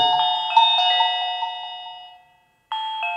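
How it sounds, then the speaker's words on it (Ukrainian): A Reolink smart video doorbell plays a bright multi-note electronic chime when its button is pressed, rings out and fades to silence, then starts again briefly at the end. "Є натиснути кнопку на дзвонику."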